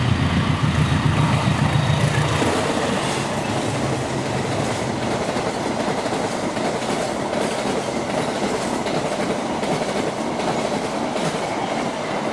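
A Bangunkarta passenger train rolls through Klari station in a steady rush of wheel and rail noise, with rhythmic clickety-clack from the carriages over a heavy engine rumble that fades slightly as it passes.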